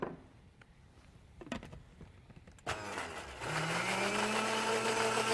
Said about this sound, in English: the blender will do the work and really emulsify this nicely